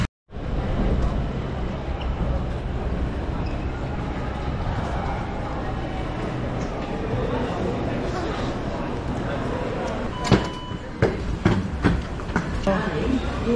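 A passenger train runs on its rails on a trip back to Tilburg, giving a steady rumbling roll with a few sharp clacks near the end and voices in the background.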